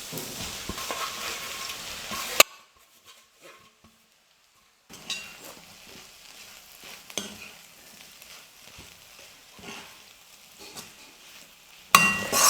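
Shredded parotta and egg stir-fry in a hot pan, giving a loud close sizzle that drops away to near silence, then returns as quieter frying with scraping and clinks of the utensil before surging again.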